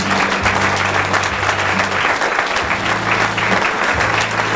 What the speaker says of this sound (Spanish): estas palmas que te damos con todo nuestro corazón